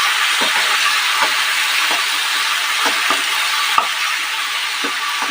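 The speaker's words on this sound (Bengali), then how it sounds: "রাঁধুনি আর আদা বাটাটা দিয়ে আমরা আরও ভালো কিছুক্ষণ নাড়াচাড়া করে নেব।" A steady, loud hiss of radhuni and ginger paste frying in a pan for a Bengali shukto, with soft periodic scrapes of a spatula stirring every second or so.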